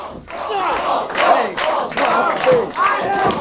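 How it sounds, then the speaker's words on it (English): Wrestling crowd at a civic center event in Monroe, Michigan, chanting a rhythmic two-syllable cheer for a wrestler, repeated in loud, evenly spaced bursts close together. "I don't believe I've ever heard the word balls chanted so much in such a short time."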